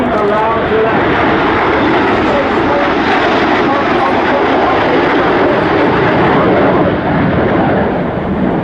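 Red Arrows jets roar overhead during an air display at RAF Fairford, with a loud, continuous, broadband engine rumble filling the whole stretch.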